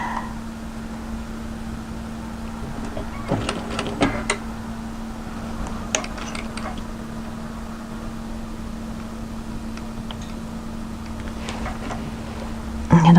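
A sewing machine stitches fabric for a waterfall drape coatigan, giving a faint, steady motor hum with scattered light clicks and taps throughout.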